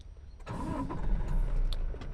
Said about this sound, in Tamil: முதல்ல நம்ம வண்டியை ஸ்டார்ட் பண்ணிக்கிடுவோம்.